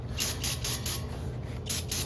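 Repeated short bursts of aerosol spray hiss from a can of carburetor cleaner, about seven quick sprays in a steady rhythm, close by over a low background hum.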